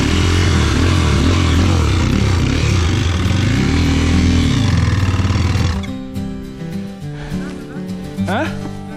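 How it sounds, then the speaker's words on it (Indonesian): A trail motorcycle engine with a fault, stalling after mud, runs loud and rough with a buzzing drone and clatter for several seconds, then cuts out into sputters, scrapes and scattered handling noises. "Mesin motor saya mengalami kendala."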